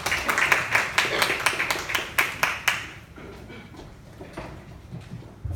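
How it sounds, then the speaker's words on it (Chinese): Audience welcoming a Korean a cappella group onto a school stage with a burst of sharp, rhythmic clapping that fades out after a few seconds, leaving quieter room noise. "我们掌声欢迎我们今天的主角 Matry"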